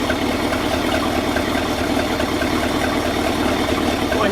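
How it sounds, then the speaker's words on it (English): A 1966 car engine fed from a jerry can idles at a steady, even rumble. A continuous low mechanical drone holds for a few seconds with no voices over it. "Boy, he idles good."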